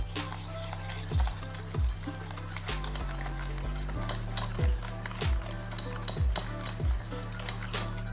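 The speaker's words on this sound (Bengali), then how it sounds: "এবার পুরো মিক্সচারটাকে আমরা খুব ভালো করে ফেটিয়ে নেব।" A whisk or spoon rhythmically beats egg and mustard oil mixture in a bowl, steady clinking strokes roughly twice a second, close and moderately loud with no talking.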